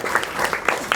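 Short burst of audience clapping at a satsang gathering, a few uneven hand claps rising and falling over about a second, fairly close and moderately loud with a murmur of the room behind.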